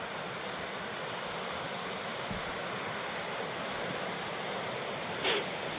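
Water from a stream rushes steadily downhill beside an old collapsed bridge in the Scottish Highlands, a constant near broadband wash with a brief brighter splash near the end.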